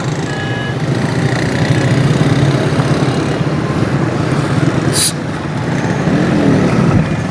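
Motorcycles and other traffic rumble past on a busy road, a continuous loud engine drone with revving swells and passing vehicles close by throughout.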